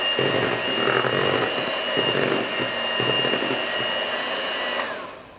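Electric hand mixer beating Christmas cake batter with allspice powder, a steady loud motor whir with a constant tone for about five seconds before winding down at the end.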